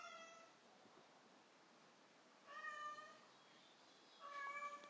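A cat meows twice indoors, each a drawn-out tonal call about half a second long, moderately close and alone over quiet room hiss, with a fainter trailing meow at the very start.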